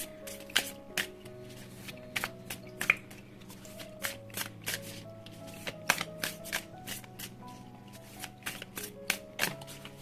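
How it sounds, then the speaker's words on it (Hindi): Tarot cards are shuffled close up in a quiet room, quick riffling bursts repeating in an uneven rhythm with soft slaps as the deck is squared, fairly faint, no talk. "तो शुरुआत करते हैं शफल करके।"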